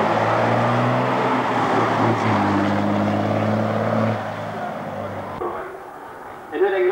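Fiat Uno Turbo racing up a hill climb course, a nearby engine drone with clear harmonics that holds, shifts pitch around two seconds, and then drops away. A commentator talks over it throughout.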